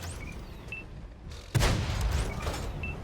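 A single heavy tank cannon shot from a Bernardini CCL X1 in a tank video game, a sudden loud boom midway followed by a rumbling tail over low background noise.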